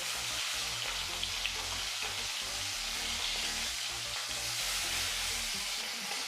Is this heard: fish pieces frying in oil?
yes